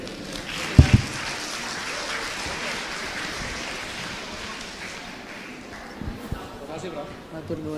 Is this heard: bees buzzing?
no